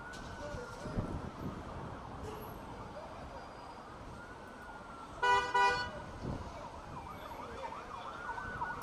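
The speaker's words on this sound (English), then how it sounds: "We are hearing sirens on the Jerusalem feed." Air-raid or emergency sirens wail faintly in the distance over Jerusalem, a rising and falling tone under steady background noise, interrupted by a brief loud horn-like blast partway through.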